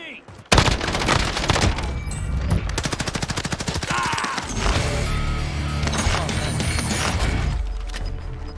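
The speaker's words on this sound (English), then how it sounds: "the sound of a headshot in this game is so satisfying" Rapid bursts of gunfire from a shooter video game, including a satisfying headshot, rattle loudly and almost continuously for several seconds, some shots in quick machine-gun runs, with a voice talking underneath.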